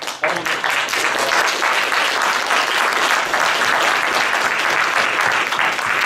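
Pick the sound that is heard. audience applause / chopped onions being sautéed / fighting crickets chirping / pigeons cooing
audience applause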